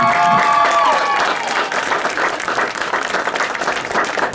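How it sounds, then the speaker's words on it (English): Audience applauding for the Parkside High School Marching Rams at an end-of-camp show: loud, dense clapping from a crowd, fading slightly, with a few faint cheers. "please, give a big round of applause to our 2023 Marching"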